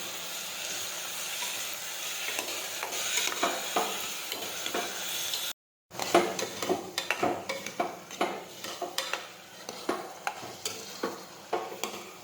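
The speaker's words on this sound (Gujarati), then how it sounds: "હવે આપણે સાતળી લઈશું." Cowpea beans sizzle and hiss steadily in a hot pressure cooker while a utensil scrapes and stirs them in quick, repeated strokes; a brief silent gap midway.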